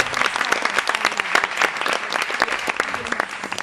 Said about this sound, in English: we should nonetheless applaud them for all of their hard work and effort towards this